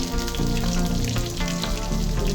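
Tempering seeds, dried red chillies and green chillies hit hot oil in a pan on the stove, giving a loud, dense crackle and sizzle that runs without a break through the short moment.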